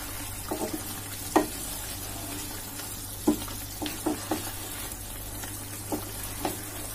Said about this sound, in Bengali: এখন আমি এটাকে আর একটু নেড়ে দিব।